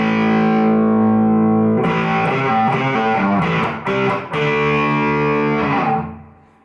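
An electric guitar plays chords and short riffs through a Vox Valvetronix VT40+ amp's overdrive setting, a thick distorted tone, loud and sustained, with a quick burst of choppy strums midway.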